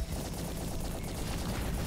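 Rapid continuous gunfire from the Splasher Rifle, a minigun-like weapon in the video game Roboquest, a dense steady stream of shots with no pauses.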